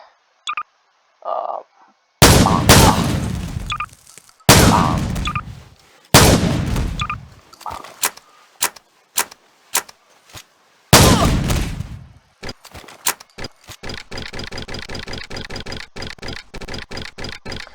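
An M1014 shotgun fires slug rounds in Garry's Mod: several loud, sharp blasts with ringing tails are spaced a second or two apart, followed by a rapid run of mechanical clicks and clacks.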